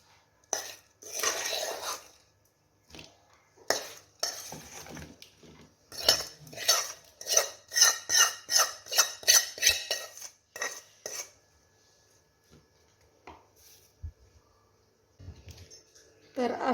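Green chili pickle spooned into a small jar, with close metallic clinks and scrapes of a spoon against glass and a steel pot coming in short irregular bursts, then a clearer run of rhythmic taps before the sound thins out.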